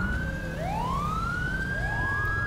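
In the video game GTA 5, an ambulance siren wails in rising and falling sweeps, loud and fairly close over a low rumble of traffic.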